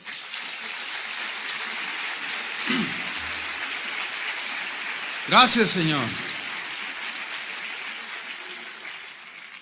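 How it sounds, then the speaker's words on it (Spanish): A church congregation applauds for the Lord, a broad continuous patter of clapping like rain throughout, with a voice briefly speaking over it. "Dale un aplauso al Señor"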